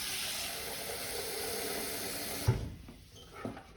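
Tap water running and hissing steadily into a bowl for pre-cleaning, then cutting off abruptly partway through, followed by a knock and faint clatter in a quiet kitchen.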